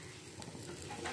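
Ghee being stirred into carrot halwa in a pan, a soft, steady scraping and gentle sizzle, close and fairly quiet throughout, with no voices.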